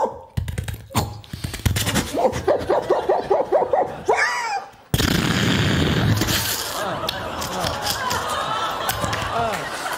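Comedians on stage vocally imitate a dog barking in a rapid series of yaps, then mimic an explosion with a sudden loud burst followed by sustained roaring crowd laughter and applause.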